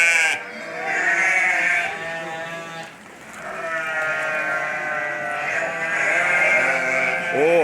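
Sheep bleat repeatedly at a sheep fattening farm, loud and close, with several drawn-out wavering calls overlapping and following one another across the whole stretch.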